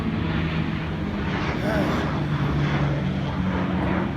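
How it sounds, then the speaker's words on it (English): Low, steady drone of an airplane passing overhead, a continuous engine rumble with faint background noise. "there's a plane flying over us right now"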